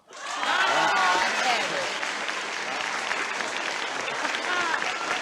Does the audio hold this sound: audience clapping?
yes